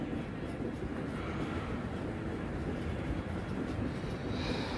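A Kirandul–Visakhapatnam passenger train with Vistadome coaches moves slowly into a station, a continuous low rumble of wheels and carriages heard from inside the train, steady and close.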